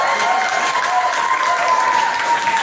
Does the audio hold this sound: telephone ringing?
no